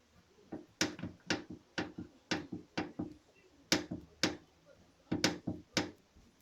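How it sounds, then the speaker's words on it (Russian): Sharp, regular knocks from a loose hood bracket on a Nissan Primera P12 while driving, roughly two clicks per second in paired bursts, close and fairly loud with no talking. "Этот звук издается непосредственно из кронштейна капота"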